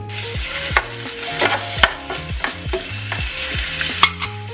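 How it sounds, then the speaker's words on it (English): Chicken sizzles and crackles in hot olive oil in a stovetop pan, a steady frying hiss punctuated by sharp pops and clinks of stirring, fairly close and loud with no voices. "now I'm going to add this to the stove. I already have some olive oil that is heating up"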